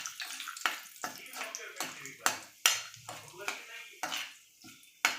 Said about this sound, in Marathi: तर आधी आपण खडे मसाले हे करून घेऊ, फ्राय करून.